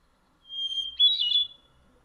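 A hermit thrush song sample played back from a bird identification app, one clear, thin whistled phrase that rises into a fluttering trill, brief and alone in silence.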